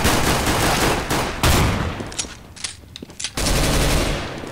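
Bursts of P90 submachine gun fire in Counter-Strike: Global Offensive, loud and close, with a long sustained volley, a brief lull of scattered shots and echoes, then another dense burst.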